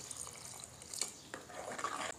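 Water, about half a litre, is poured into dal in a cooking pot, making a faint, close splashing trickle that rises toward the end.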